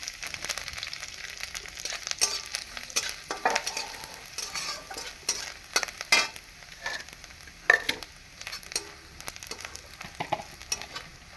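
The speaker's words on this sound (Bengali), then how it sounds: "নারকেলটা একটু আমি ভেজে নিচ্ছি" Coconut sizzles steadily in a hot pan with cumin seeds while a utensil scrapes and stirs it in irregular strokes, close up, with no talking.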